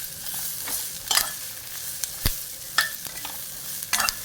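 Green chillies fry in oil for amla thokku, a soft, continuous sizzle with occasional sharp knocks and scrapes from stirring in the pan, close-miked but fairly quiet, with no talking.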